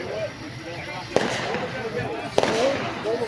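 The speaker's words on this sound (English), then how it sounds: "Some fireworks popping out from nearby." Fireworks popping near a putt-putt mini golf event in Kingsport, Tennessee, with two sharp separate bangs breaking through a steady murmur while someone talks throughout.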